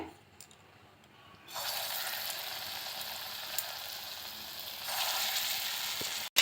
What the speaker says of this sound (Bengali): মিডিয়ামে রেখেই বড়াগুলো ভেজে নিচ্ছি